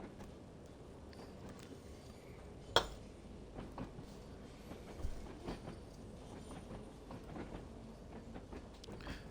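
A passenger train rolls along the rails toward Smallbrook Junction, a steady rumble with rhythmic wheel clicks and a sharp metallic clack, heard from inside the carriage.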